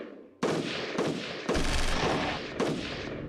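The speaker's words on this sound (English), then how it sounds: "Fire at the dinosaurs. Hit them with the artillery." Heavy artillery fire pounds dinosaurs in the strategy war game Shadow Empire, a rapid series of loud booming blasts that overlap into a continuous roar of gunfire, with no voices.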